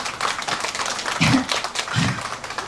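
An audience claps for a pumba street-theater act at Dogu beach, a steady patter of many hands with a couple of heavier thumps, fairly close and mostly free of talk.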